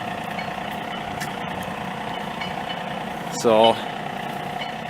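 The engine of a John Deere 3025e compact tractor idles steadily at close range, a constant low drone with harmonic hum running throughout, while someone speaks briefly over it and a short whine rises near the end.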